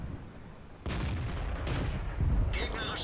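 Tank main gun firing in the video game Wargame, one sharp boom near the start followed by rumbling battle noise and a later blast, with game sounds layered throughout.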